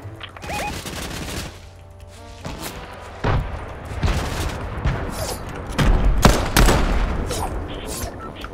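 Grenade blasts and bursts of gunfire in a Fortnite match, with several loud booms and sharp shots scattered through steady game noise, close and punchy.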